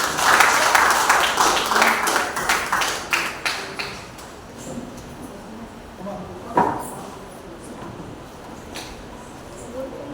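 Applause from an audience at a Tamil association gathering in Kochi, a dense burst of clapping at the start that thins into scattered claps and fades into a quiet room.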